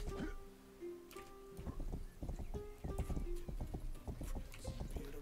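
Horse hooves clip-clopping in the video game Rustler, a steady run of distinct clopping steps heard up close, with a brief whinny-like tone early and game sounds underneath.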